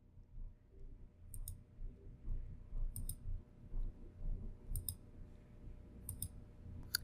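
Computer mouse clicks in an Arcturus access controls wizard: four quick, crisp double clicks spaced a second or two apart, set over a low steady hum and quiet background noise.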